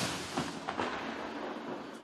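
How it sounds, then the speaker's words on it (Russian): Grenades burst close by in combat, a loud dull blast followed by rolling rumble and a second heavy thud, with no voices. "Гранаты взрываются совсем рядом, вражеские мины падают на соседние позиции."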